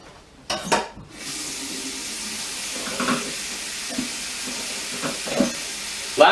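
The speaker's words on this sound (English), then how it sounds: "we use the green nylon scrubby to scrub the inside of the sink" A green nylon scrubby works around the inside of a bathroom sink, giving a steady close hiss of scouring with a few louder scrapes and knocks along the way.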